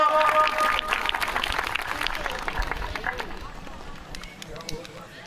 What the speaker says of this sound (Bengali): জোরে একটা হাততালি দিব।